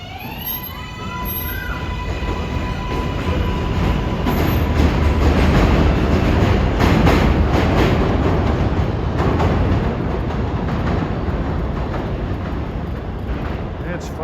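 An NYC 7 line subway train riding between Hudson Yards and 82nd Street, a loud steady rumble of wheels on rails with a rising roar and faint high whines, heard from inside the car.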